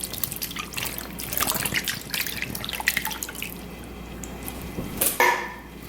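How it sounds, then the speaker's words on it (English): Thick coconut milk pours into a cooking pot for a Caribbean oxtail stew, a wet trickling and dripping stream with small splashes running for several seconds, close and fairly quiet. "I'm going to put in some coconut milk,"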